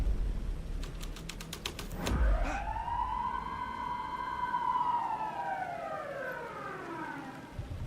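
Police car siren in the video game Alan Wake 2: a wailing tone rises and slowly sweeps down over several seconds, preceded by a rapid burst of clicks and a thump, fairly faint against background noise.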